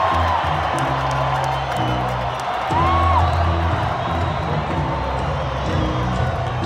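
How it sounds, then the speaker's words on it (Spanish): A large crowd at the Mexico vs USA Gold Cup final in 2019 cheers and chants continuously, with whoops and shouting rising and falling, loud and sustained throughout. "Ya, si gritan Chucky Lozano ya es mucho."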